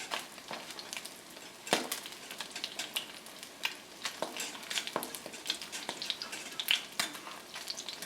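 Bronzini fish fry in a hot pan, a close, continuous sizzle and crackle with irregular popping spatters and a few sharper bursts, with no talk over it.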